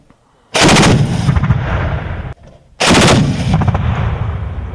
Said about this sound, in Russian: Сейчас проводится практическая стрельба с зенитной установки э, ЗУ-23-2